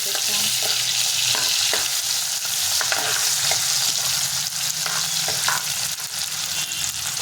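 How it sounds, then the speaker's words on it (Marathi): Chopped onion sizzles and crackles in hot oil in a pan as scallion and lentil vegetable cooking begins, with a steady loud fry and occasional stirring scrapes throughout, no talking. "कांदा टाकला तेलामध्ये"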